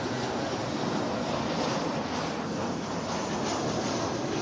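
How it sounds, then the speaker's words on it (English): An American Airlines Airbus A321 from Cancun arriving at DFW airport, heard as a continuous broad jet roar, steady and moderately loud throughout, with no speech. "flight 316 American Airlines is coming in from Cancun. You'll hear it in the background."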